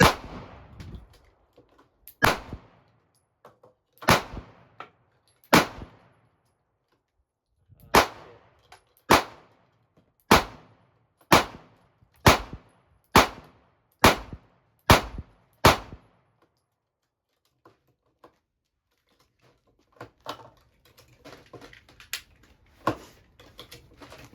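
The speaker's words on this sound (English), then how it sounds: "I'm shooting above target now" Pistol gunfire from a Sig Sauer P365 and a Springfield Armory Hellcat: loud, sharp shots, a few spaced out at first, then a steady rapid string of about a dozen, followed by quiet and faint clatter.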